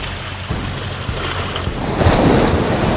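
Rough sea noise on a rocky seaweed-harvesting coast, a broad churning wash of waves with wind buffeting the microphone, swelling louder toward the end.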